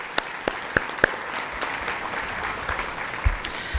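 Scattered audience clapping for award honorees at a school awards event, a steady patter of hands with a few louder individual claps standing out, moderately distant and fairly soft throughout.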